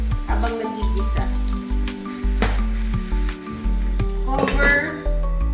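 Bitter melon and tomato sizzle steadily in a hot pan with fish sauce added, an even frying hiss with a few utensil clinks and a low hum underneath.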